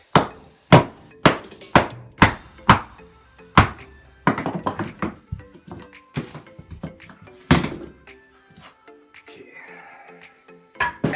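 A hammer strikes wood and nails during home repair work around siding, a run of sharp, evenly spaced loud thunks followed by quicker, looser knocks and taps, close by with some talk in between.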